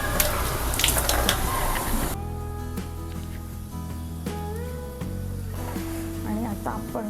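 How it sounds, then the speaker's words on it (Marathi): Tap water runs steadily into a kitchen sink as ginger and a handful of coriander are rinsed for a Maharashtrian chicken curry, a close continuous gush with light clatter that eases briefly midway. "हे अद्रक पण धुवून घेते."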